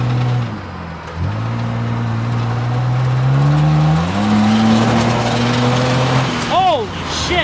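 Engine of a widened, cut-and-rejoined budget car runs steadily while driving, its pitch rising and falling through gears, with excited voices talking and whooping over it near the end.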